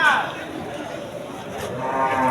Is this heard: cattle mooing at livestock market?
yes